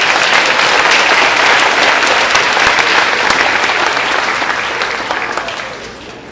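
Audience clapping for a class at a fourth grade moving-up ceremony, a broad, even wash of applause that holds steady, then fades out over the last couple of seconds.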